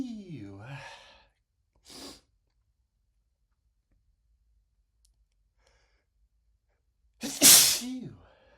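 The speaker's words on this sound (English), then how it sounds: "I can't stop sneezing." A man sneezes from black pepper: a strained breathy build-up, a short sneeze burst, a long quiet gap, then one loud, close sneeze near the end.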